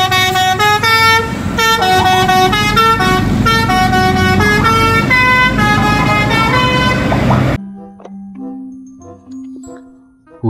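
A Persita Tangerang bus sounds its basuri horn, a loud multi-tone musical horn playing a rapid, rhythmic melody for several seconds, then dropping to a few quieter sustained tones.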